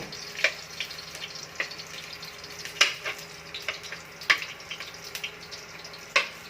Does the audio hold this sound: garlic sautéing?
yes